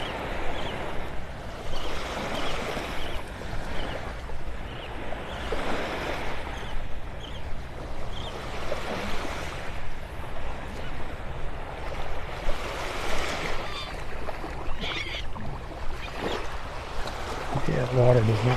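Ocean surf rolls in continuous washes as the tide goes out, a steady broad rushing roar with gusty wind noise on the microphone and no clear breaks between waves.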